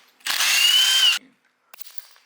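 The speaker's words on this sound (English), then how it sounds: "See how these lug nuts come off." A pneumatic impact wrench spinning off a lug nut on a 1JZ-swapped Nissan Silvia's wheel, one loud close buzzing burst of about a second, then a short rattle of loosened metal.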